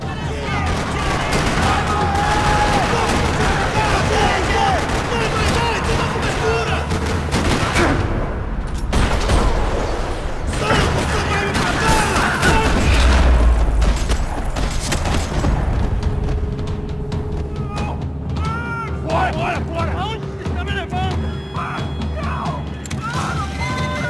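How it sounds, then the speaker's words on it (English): Bursts of gunfire in Max Payne 3 rattle throughout a parking lot, with heavy booms and rapid shots mixed with voices and background music. "Another parking lot rattling with gunfire."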